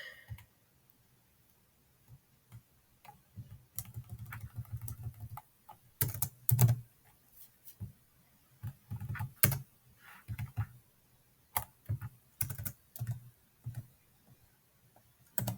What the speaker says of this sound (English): So we need to type these following commands.